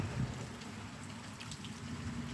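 Steady rain falls during a thunderstorm over Elyria, a continuous even hiss with scattered drops, moderately faint and without any distinct thunder clap or voices.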